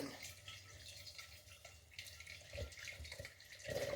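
Water pours steadily into a pot close by while making mead, a continuous splashing trickle with no voices.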